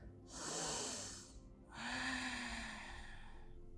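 Two slow, deep breaths drawn during a beginner yoga session, each a soft airy rush lasting over a second, close to the microphone in a quiet room with no talking.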